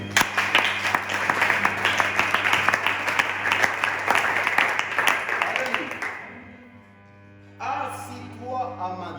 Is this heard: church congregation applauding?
yes